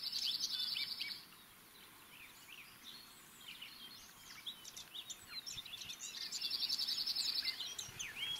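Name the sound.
nuthatches and dippers calling near the nest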